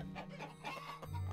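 Chickens cluck and squawk in Totally Accurate Battle Simulator, a busy flurry of fowl calls over a steady low game hum, continuous and fairly loud throughout.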